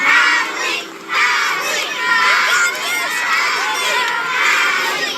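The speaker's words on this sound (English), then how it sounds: "every single student and teacher were lined up outside cheering for her as she arrived" A crowd of school students and teachers lined up outdoors cheering and shouting together, loud and continuous, with excited high children's voices rising and falling throughout.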